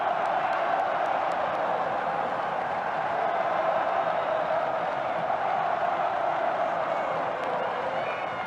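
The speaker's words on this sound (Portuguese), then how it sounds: "A torcida acorda no Maracanã" Football crowd at the Maracanã stadium during a Fluminense match against Corinthians, a steady dense roar of distant massed voices sustained throughout with faint whoops over it.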